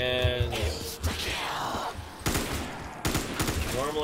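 Light machine gun fire from Black Ops 3 zombies mode on a custom map, with rapid bursts of automatic shots in several clustered volleys, loud and close, mixed with game sounds and a voice talking in places.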